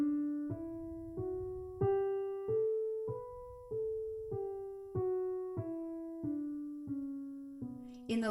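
A piano plays the B natural minor scale one note at a time, up and back down in an even rhythm, each note ringing clearly alone.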